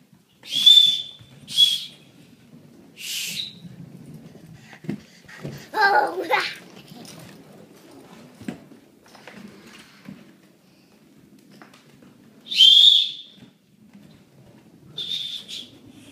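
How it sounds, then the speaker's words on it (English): Short, shrill whistle blasts sound three times near the start and again later, with quiet babbling and soft voices in between. "Do you want to run and blow the whistle and then we'll be done?"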